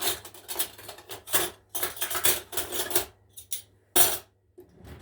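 A spoon clinks and scrapes against a mixing bowl of beaten egg yolks for a roll cake batter in quick irregular bursts, close and clear, with short pauses between strokes.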